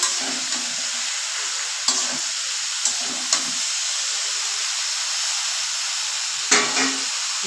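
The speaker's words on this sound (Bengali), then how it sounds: "পরিমাণ মতন লবণ আর কি এবার সব সবজিগুলো নাড়তে থাকবো" Mixed vegetables including potatoes and carrots, salted, are stirred in a sizzling pan for a spinach and freshwater snail curry, a steady hiss of frying with sharp, occasional scrapes of a spatula against the pan.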